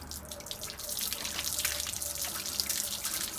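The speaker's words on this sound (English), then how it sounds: "We'll let those go ahead and drain out." Water drains steadily from an RV hot water tank being winterized, a continuous close splashing trickle with faint drips, alone with no voices.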